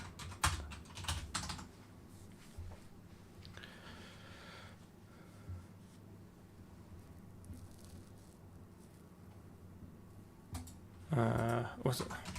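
Quick clattering keystrokes on a computer keyboard during programming, close and fairly faint, in bursts with pauses between and a louder flurry near the end.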